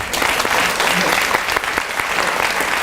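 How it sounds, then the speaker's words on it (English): Audience applause at an International Women's Day celebration event, a dense, steady burst of clapping from a crowd filling the room for the full length, loud and continuous with scattered sharper claps. "So can we give her a round of applause?"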